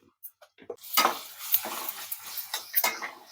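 Fresh ginger garlic paste frying in a pan for rajma veg pulao with carrots and onions, a clattering metal spoon stirring over a soft sizzle, up close with no talk.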